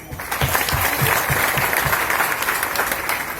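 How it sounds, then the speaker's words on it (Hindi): Audience at a company anniversary gathering breaks into sustained applause, steady and full throughout with dense clapping from many hands, no speech over it. "हाँ एक बार ताली बजा दी सभी लोगों को।"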